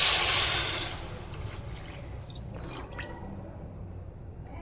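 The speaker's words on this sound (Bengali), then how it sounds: "জল দিয়ে দিলাম।" Water poured into a pot of rice and mixed lentils for khichuri in a home kitchen, a bright splashing pour at the start that fades into softer trickling and dripping, close by with no talk.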